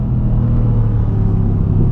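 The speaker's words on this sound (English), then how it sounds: "the 4-liter twin-turbo V8 wasn't going to sound good, but man, it sounds great." Mercedes 4-liter twin-turbo V8 engine under way, a continuous deep, loud rumble heard close from inside the car with no talk.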